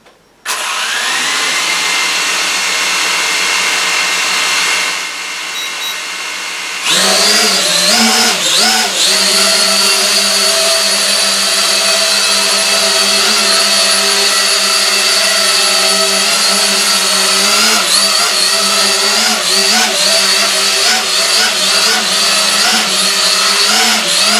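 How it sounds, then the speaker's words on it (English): A small quadcopter drone flies indoors in a cramped home office, its rotors whining steadily and loudly up close, the pitch wavering as it climbs and hovers after a brief lower-pitched spin-up. "So let's fly some drone."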